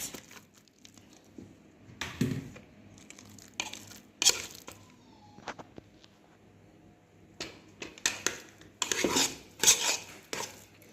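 Hot boiled potatoes being mashed in a pot for a Jamaican dinner, heard as repeated soft squelching presses and metallic scrapes of the masher against the pan, coming in irregular bursts with quiet gaps between them.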